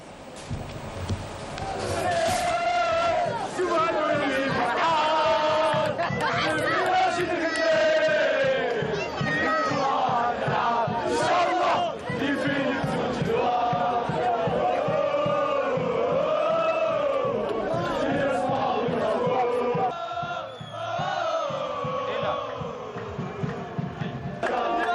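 USM Alger supporters fill the streets of Algiers celebrating a continental title, a loud, dense crowd chanting and shouting without pause, voices rising and falling together.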